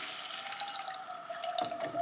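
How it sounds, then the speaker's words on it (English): Chicken bone broth pours into a pan of bubbling pan drippings, a steady liquid splash and sizzle with scattered drips, close and moderately loud. "we got our drippings bubbling up, so I'm gonna add my chicken bone broth"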